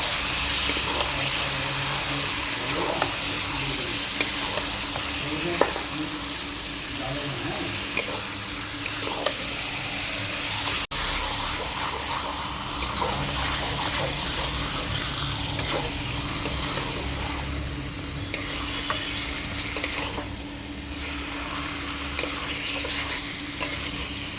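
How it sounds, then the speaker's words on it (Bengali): Chicken pieces stirred in hot oil in a pan for a slow-cooked chicken kosha, with a steady close sizzle and frying hiss throughout and repeated scraping and stirring clicks. "এই চিকেনটা দিয়ে এবার আমি নাড়াচাড়া করে নেব"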